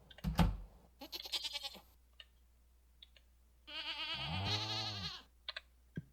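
Goat bleats in the game Stardew Valley, a short burst then a longer wavering bleat, with soft clicking sounds between them.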